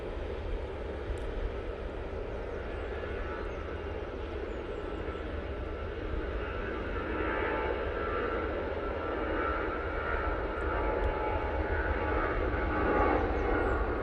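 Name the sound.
Aer Lingus airplane passing at Manchester Airport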